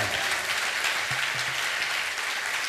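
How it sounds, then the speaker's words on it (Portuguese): Sustained applause from a large church congregation, steady clapping filling the whole stretch with no pauses. "Quem tem promessa de Deus pode aplaudir o Senhor aqui"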